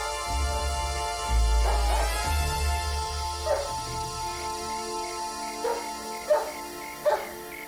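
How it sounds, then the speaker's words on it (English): A dog barks outdoors in a few separate, moderately loud yips and woofs, spaced out over a steady low hum, with no speech. "It's nobody, just a dog."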